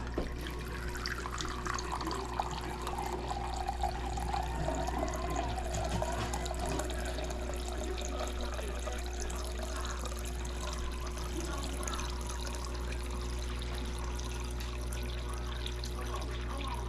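Water pours steadily into sourdough pizza dough, a continuous close splashing stream that runs for the whole stretch with a low hum beneath it.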